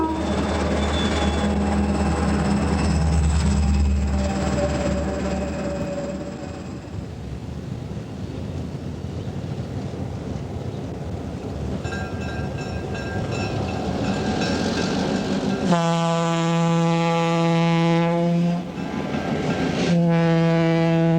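A Burlington Northern diesel locomotive train rumbles steadily along the rails, with loud, sustained horn blasts sounding near the end and no talking.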